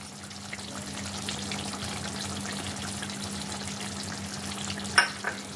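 A pan of small-potato aloo dum topped with garam masala and chopped coriander is stirred and mixed, giving soft, moist scraping and gentle sizzling against a low steady hum, with a couple of sharper clinks near the end.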